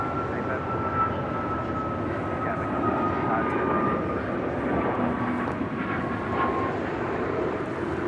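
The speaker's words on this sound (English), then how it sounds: "We do have that American 777 making our way down for a departure here on the south side." Jet airliner engines at LAX airport, a steady distant roar with a faint whining tone drifting slowly in pitch, heard outdoors under air traffic radio chatter.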